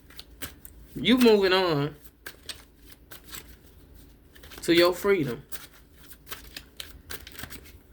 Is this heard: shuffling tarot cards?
yes